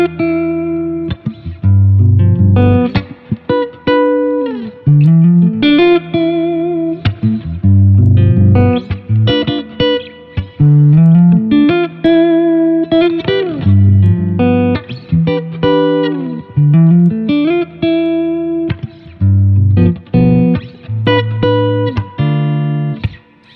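A guitar plays arpeggios and chord voicings through the fretboard, with plucked notes and ringing chords following one another in a steady rhythmic run. It is loud, close and purely instrumental, with no voices.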